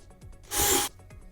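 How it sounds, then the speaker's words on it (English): A short burst of power drilling into a homemade Boba Fett jet pack, one loud whirring grind lasting under half a second, with quiet handling noises before and after. "I'm just going to drill a hole here and one on the other side as well."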